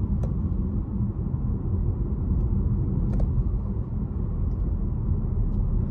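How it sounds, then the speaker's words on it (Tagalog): Heavy road traffic near a construction zone, a dense continuous low rumble of many cars moving together, with a couple of faint sharp clicks over the steady drone. "Ang dami sa sasakyan guys oh."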